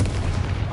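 The Confringo blasting spell from Hogwarts Legacy lands as one short, heavy, booming blast, loud and close.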